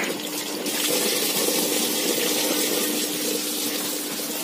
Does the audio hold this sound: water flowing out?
yes